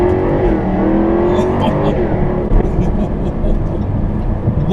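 A Jaguar F-Type R pulls hard in second gear, its engine roaring loud and close as the revs climb steadily, then easing off briefly before rising again, heard from inside the car with a voice over the roar.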